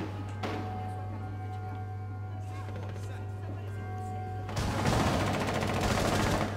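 Gunfire in Rainbow Six Siege, a burst of shots swelling loud near the end over a steady game hum, with scattered earlier pops and a player talking.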